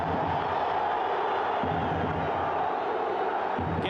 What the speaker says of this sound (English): Booming Honduras chants from the crowd early on